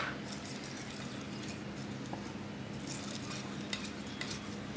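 A spoon stirs a chocolate mixture blended with flavouring essence in a bowl, making soft, continuous scraping with a few light clinks, close by and quiet, with no one speaking.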